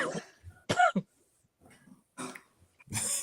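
A person coughs in several harsh, close bursts separated by short pauses, with a faint voice briefly audible between them.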